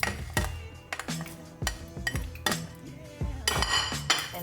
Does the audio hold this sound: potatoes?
yes